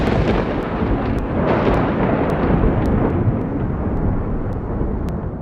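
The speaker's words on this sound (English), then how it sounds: "Small lightning strikes, followed by huge potent lightning, struck just a mere 100 feet from him." Thunder rumbles loud and sustained during a storm after a nearby lightning strike, with repeated sharp crackling strikes over a continuous deep roar.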